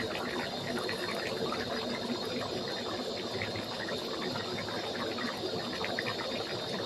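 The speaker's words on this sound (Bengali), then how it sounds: "দেখুন চিকেনটা ফুটছে" Chicken curry with added water bubbling in a pot, a steady dense bubbling and simmering that holds constant and close throughout, with no voices.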